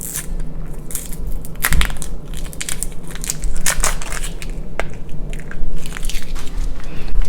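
A bouillon cube is crushed by hand over a cooking pot, giving a loud, close, continuous gritty crumbling and crackling that runs through the whole stretch.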